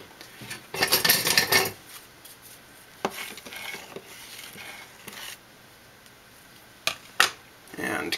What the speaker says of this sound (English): we're going to put salt in there, mix it around